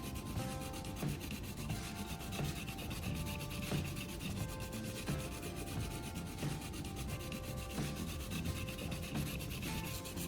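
Rhythmic rasping strokes of a sanding block scraping back and forth across a knife blade to sharpen it, steady and close, with no talking.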